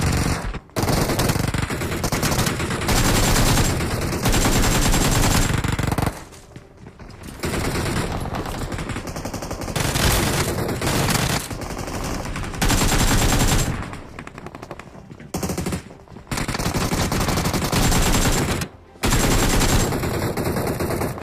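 Sustained automatic gunfire in the mobile battle royale BGMI: long, loud, dense bursts of rapid shots, broken by brief pauses, close and dominant with no talking.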